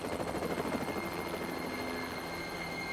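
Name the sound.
helicopter hovering in an animated cartoon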